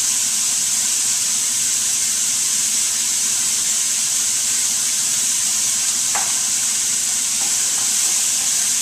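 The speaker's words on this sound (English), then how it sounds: "I'm just going to continue sauteing it off" Garlic sauteing in a pan with salt and pepper gives a steady, bright hiss of sizzling oil, with a soft scrape of a utensil partway through, close and continuous and without speech.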